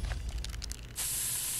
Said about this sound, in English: Now try to pepper spray me